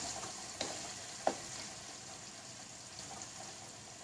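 Jackfruit pieces frying in oil for a crispy chakka varuthath, with a faint, even bubbling hiss and a couple of light clicks from stirring, quiet and distant.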